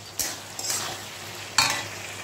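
Pumpkin ghonto with fish head stirred in a pan while it cooks dry: brief scraping strokes of a spatula against the pan, three close swipes over a steady low sizzle.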